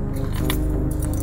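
A bunch of keys jangles loudly up close, a brief bright metallic rattle over a dense, rumbling soundtrack background.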